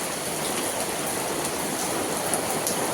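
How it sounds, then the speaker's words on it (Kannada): Steady, dense rain pours down on a village home, a constant broadband hiss with scattered drips and splashes on surfaces nearby. "ನೋಡಿ ಫಾಸ್ಟ್ ಆಯಿತು ಮಳೆ"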